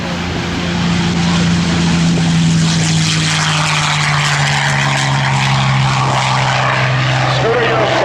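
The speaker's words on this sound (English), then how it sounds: "Scooter Yost taking off in Quicksilver, holding it down, collecting lots of knots himself in the P-51D Mustang." A P-51D Mustang named Quicksilver takes off at a World War II Weekend airshow, its propeller engine a loud, steady droning roar that swells and holds close, with an announcer talking over it.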